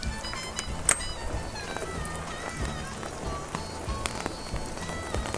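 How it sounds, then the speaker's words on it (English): Steady rain falls outdoors on a farm, a dense soft hiss with scattered louder drops and patters throughout, no speech over it. "why are you doing this in the rain?"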